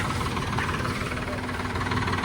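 A tractor engine idles steadily with a low, throbbing chug, close by and continuous for the whole short stretch.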